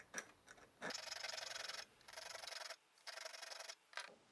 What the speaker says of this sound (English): We also have enough clearance on this bit to use the flat file instead of the square one.